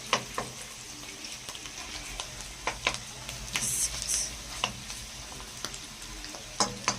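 Kofta sizzles in a frying pan while pieces are turned over, giving a continuous hiss broken by scattered clicks and utensil taps, near and moderately loud.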